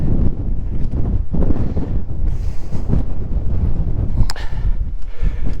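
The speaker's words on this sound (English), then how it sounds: "Well, there's a strong wind as you'd expect" Strong, steady wind buffets the microphone on an exposed limestone mountain ridge, a loud continuous roar with gusty swells throughout and no other sounds standing out.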